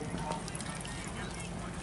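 Horse hooves thud in quick, uneven beats as a horse turns during a polo match, heard beneath continuous crowd noise and a commentator talking over the action.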